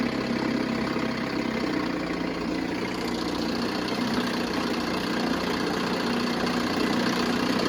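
An overheating outboard boat motor idles steadily at close range, a continuous low rumbling drone with no voices over it.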